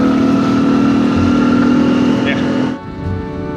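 A steady small scooter engine drones throughout while riding on a foggy, humid road in Laos, with wind rumble, then drops in level near the end.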